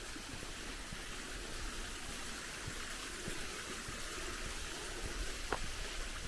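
A river flowing nearby, a faint, steady rushing wash of water heard from a distance with no talking.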